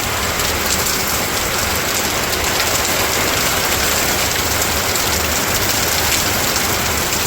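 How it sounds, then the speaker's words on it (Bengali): Steady rain falling in a rural village, a dense, even hiss of drops that stays loud and unbroken throughout, with no voices. "বৃষ্টি নেমে গেছে।"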